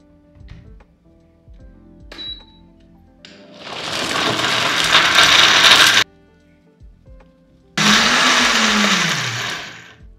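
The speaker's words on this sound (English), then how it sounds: "Next I'm going to blend this." A kitchen blender whirring through a jerk chicken marinade in two loud sustained bursts separated by a pause, with small handling knocks before and between them and the motor pitch dropping as the second run winds down.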